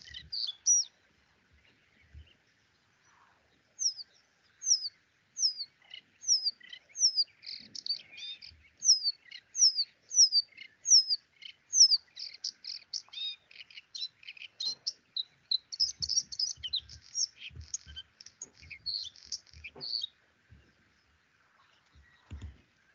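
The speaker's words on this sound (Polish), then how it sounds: "Ptaszek sobie śpiewa." A recorded nightingale sings from reeds in a marsh near Wrocław, played back through a speaker: a long run of repeated sharp chirps and whistled phrases, fairly faint, with a few low thumps and handling noises beneath.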